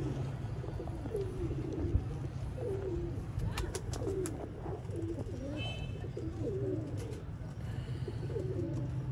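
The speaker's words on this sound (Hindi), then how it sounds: "नायाब किस्म के गोल्डन कबूतर" Golden pigeons coo in repeated soft, rolling calls at close range, with a steady low rumble of background noise and faint chirps in between.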